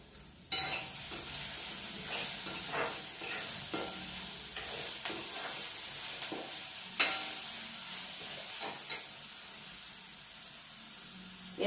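Onion frying in oil for a spinach, potato and wheat-flour dish: a steady broad sizzle runs close and loud throughout, broken by a few sharp scrapes and clinks of stirring.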